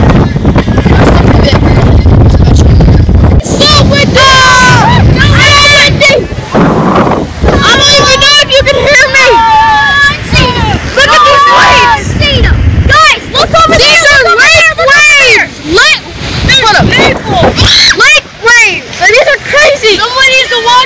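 Strong wind on a Lake Erie beach roars and buffets the microphone in long gusts, with several people talking loudly over it throughout.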